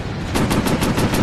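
Rapid machine gun bursts from a warplane in a VR Pacific air-combat game, a loud, evenly spaced rattling stream of shots heard alone.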